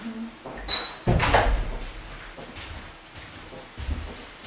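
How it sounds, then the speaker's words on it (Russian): A door is pulled shut indoors in a home gym to keep out a draft, giving one solid, fairly loud thump followed by quieter room shuffling and faint knocks. "Дверь закрой, чтобы сквозняка не было."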